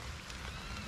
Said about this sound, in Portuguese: Olha o solzão rachando e chuva caindo.